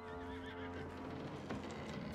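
Horse neighing in the Red Dead Redemption 2 video game, a loud whinny over a steady game ambience with a brief snort or thump near the end.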